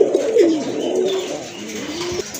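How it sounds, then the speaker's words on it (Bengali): A pair of large Giribaj pigeons coo close by, with soft, low, rolling calls repeating through the moment and no talking. "এক জোড়া গিরিবাজ কবুতর আছে, খুবই চমৎকার কালার, সাইজ কিন্তু অনেক বড় আছে, দেখার মতো কিন্তু ডাকতেছে"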